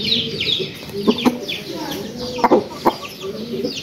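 Chickens clucking and squawking in a cage during Newcastle disease and infectious bronchitis vaccination of poultry, with several sharp, loud squawks over continuous nearby clucking as people talk in the background.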